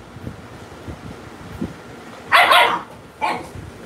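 Aggressive dogs let out two loud, close barks about a second apart, after quieter rustling and wind noise.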